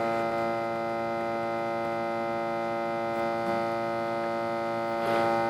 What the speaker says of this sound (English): that is one noisy inverter, no doubt about that